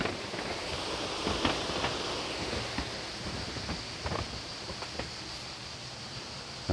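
A waterfall at an outdoor beauty spot in Turkey gives a steady broadband rush of falling water, constant and fairly close, with a few faint clicks and knocks on top.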